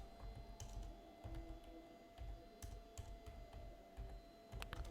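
Quiet, close computer keyboard typing, a steady run of soft key taps and clicks with slight irregular rhythm, no voices.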